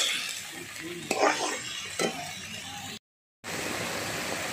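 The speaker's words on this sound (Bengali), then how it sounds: "দিয়ে মশলাটা এবার ভালো করে নাড়া দিচ্ছি" Ground spice paste being stirred in a hot pan, with metal spatula scrapes and clinks over a soft sizzle, close and moderately loud, then a brief moment of silence before the frying resumes.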